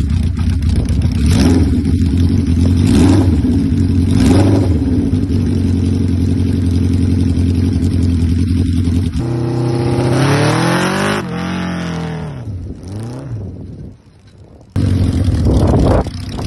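A Honda CB550 chopper motorcycle idles loud and close with a steady low throb, then revs up in rising and falling sweeps before settling back, with a short dip near the end; no talking.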